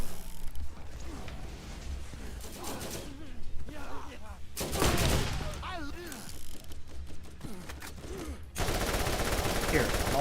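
An automated turret firing in Borderlands, rapid rattling bursts of gunfire with mechanical clatter, loud and close, coming in clusters with brief gaps and a dense final burst, while someone talks over it.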